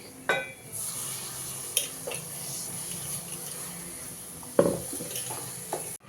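Blended tomatoes going into a hot pan of oil for a Telangana-style crab curry, a steady sizzle with a few spoon-and-pan clanks spaced across the stretch.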